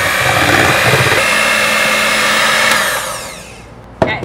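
An electric mixer whirs steadily at close range while blending banana muffin batter with vanilla extract, then winds down and stops near the end, followed by a single sharp knock.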